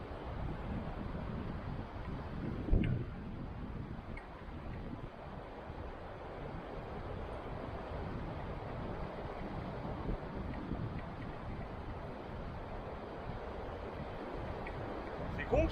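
Steady wash of small sea waves and gusting wind at the shore, with constant wind noise buffeting the microphone and no clear talk.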